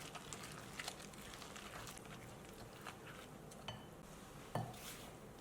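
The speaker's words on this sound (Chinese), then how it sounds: "给它搅拌成稀糊状" Whole wheat flour and water being stirred into a thin batter in a bowl, with soft scraping and faint clinks of a utensil against the dish, quiet and close, with no talk.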